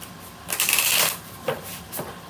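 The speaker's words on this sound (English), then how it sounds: "One more shuffle." Tarot cards are riffled and shuffled close up, a long brisk riffle followed by two shorter flicks.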